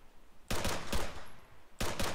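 Arma III gunfire: loud bursts of rapid automatic shots, one long burst lasting over a second followed by a fresh burst starting near the end, close and dominant with no talk.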